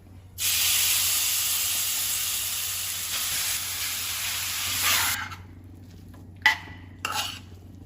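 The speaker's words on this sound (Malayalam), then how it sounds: "നെയ്യെല്ലാം മെൽറ്റായിട്ടുണ്ട് നമുക്കിനി ക്യാരറ്റ് ഇതിലോട്ട് ഇട്ട് കൊടുക്കാം" Grated carrot for carrot halwa drops into melted ghee in a pan and fries with a loud, close sizzling hiss for several seconds, fading out, followed by a couple of brief stirring clinks.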